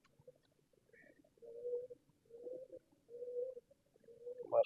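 Pigeons coo inside a breeder's loft in a series of soft, low, drawn-out calls, about four of them with short pauses between, close by and quiet against a near-silent background.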